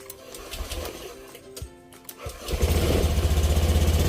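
A motorcycle's electric starter, powered by a homemade battery, whirs briefly before the engine catches and settles into a loud, steady, close putter.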